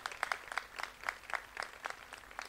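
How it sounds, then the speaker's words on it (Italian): Applause for Federico Fiorenza at an Italian talk on poverty and new slavery in Africa, sparse, faint clapping from a small group, heard as distinct rhythmic claps spaced fairly evenly throughout. "voglio fare un applauso a Federico Fiorenza"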